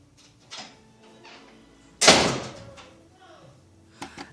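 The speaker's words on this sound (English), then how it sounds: "Trey, close the door." An indoor door is shut once with a single close, sharp thud midway, set in a quiet room with a few faint knocks and soft sounds before and after it.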